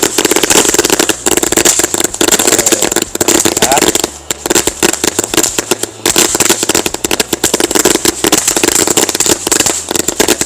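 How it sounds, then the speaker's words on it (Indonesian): A Mercon Magical Cassandra firecracker set off in the ground bursts in a rapid, dense string of sharp cracks and pops lasting several seconds, loud and close, with a brief pause midway. "Itu dia hasilnya dari Mercon Cassandra Magical"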